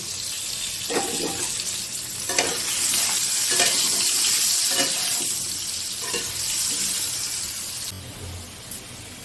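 Potatoes seasoned with turmeric and a little salt fry in oil with a loud, steady sizzle, broken by several scraping stirs. The frying quiets briefly near the end.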